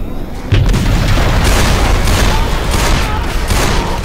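Dense, continuous gunfire and booming blasts from a Left 4 Dead co-op game, loud and unbroken for the whole stretch, with voices faintly mixed in underneath.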